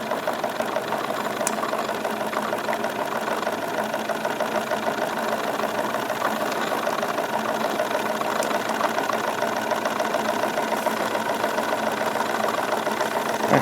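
A Wilesco D22 model steam engine runs steadily at moderate volume, a continuous mechanical chuffing and knocking with an even, rapid rhythm and no talking.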